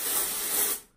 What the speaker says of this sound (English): Spray. Come forward an inch.